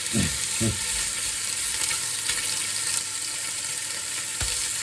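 Chicken pieces for a chicken balti frying in a pan, giving a loud, steady sizzle that runs throughout, with a couple of brief clanks from stirring near the start.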